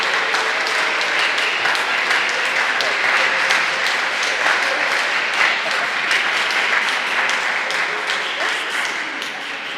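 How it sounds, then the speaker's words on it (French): A church congregation applauds during a Sunday Mass, with steady clapping from many people that fills the room for the whole stretch and fades a little at the end; a voice speaks over it. "Ah, ils applaudissent, nos amis."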